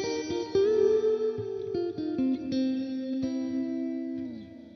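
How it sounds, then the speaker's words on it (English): Sustained electric guitar notes through an Xotic Custom Shop Stereo X-Blender with reverb turned all the way up ring out into a wide, lingering wash, tones blurring together and decaying slowly with no voices. "we turn it all the way up, we're getting a giant wash of reverb."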